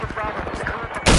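A sudden loud burst of Battlefield 4 gunfire erupts near the close, following a stretch of muffled rapid rattling in the background.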